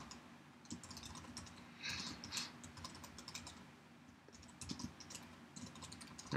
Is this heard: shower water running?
no